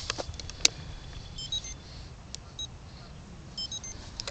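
An RC transmitter radio gives several short, faint electronic beeps at irregular spacing over low background rumble and small handling clicks.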